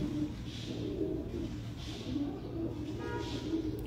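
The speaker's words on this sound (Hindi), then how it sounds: "ये उनका शानदार कबूतर 31 नंबर ओरिजिनल टैडी कबूतर" Teddy pigeons cooing in repeated soft, rolling phrases at close range, several coos spaced through the stretch over a low, steady background hum.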